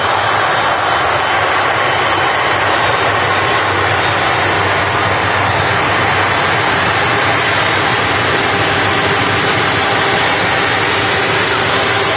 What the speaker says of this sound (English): Certainly good to see Turkish Airlines operating the A330-300